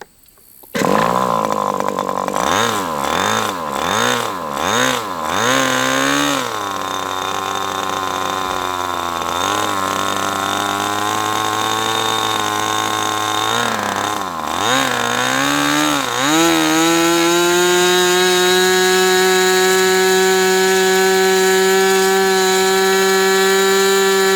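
A Mutunuc Millennium Pro 61 chainsaw engine runs for the first time, loud and close. It revs up and down repeatedly, then settles into a sustained high-pitched scream, with no one talking.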